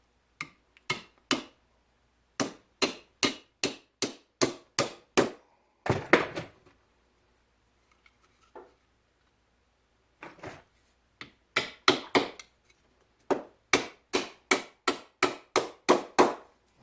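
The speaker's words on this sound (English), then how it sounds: "get your hammer. And you want to drive that in there" Sharp, ringing hammer strikes driving a nail into wood, in steady runs of rapid blows, pausing briefly between sets, close and loud against near silence.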